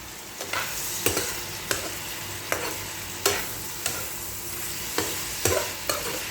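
Shrimp cooking in a pan sizzle continuously while a utensil scrapes and stirs in regular strokes, about once a second, close up.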